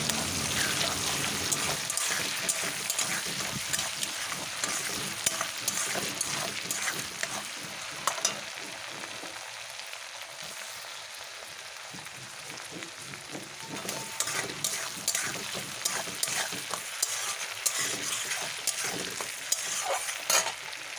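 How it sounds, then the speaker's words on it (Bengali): Continuous dense sizzling and crackling of prawns frying in hot oil, with occasional stirring scrapes, steady and close throughout. "ওর মধ্যে ওই চিংড়ি মাছগুলো দিয়ে ভালো করে ভেজে নেব"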